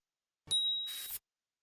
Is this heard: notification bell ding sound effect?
yes